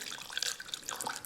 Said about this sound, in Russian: И добавляем горячую воду